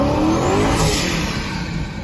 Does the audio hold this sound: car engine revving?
yes